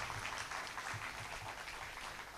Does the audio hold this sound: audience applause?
yes